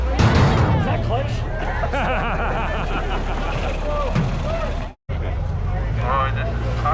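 Air-cooled engine of a 1976 VW Bus rumbles at low speed under loud, overlapping voices of people chatting inside, with a brief dropout partway through.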